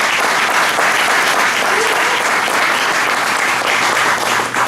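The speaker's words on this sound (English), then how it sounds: "Let's give her another round of applause" A banquet crowd at a Rotary club gathering gives a sustained, dense round of applause for Amanda, loud and even from start to finish with no talking over it.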